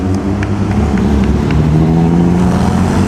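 Classic Porsche sports car engines at the 2013 Mille Miglia road race in Italy, a loud, steady roadside drone with a deep, rumbling low end and passing engine tones, no voices.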